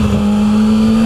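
A Yamaha FZ-09 motorcycle pulling hard off the line, a loud, close engine holding a steady, buzzing drone throughout, with no talking over it.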